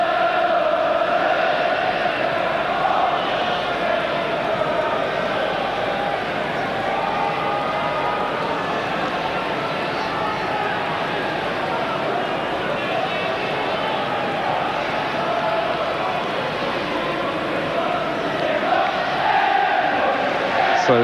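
Large football stadium crowd of about 27,500 at an Arsenal versus Liverpool Premier League match in 1992/93, a steady, loud roar of voices and chanting throughout with murmuring swells, under commentary.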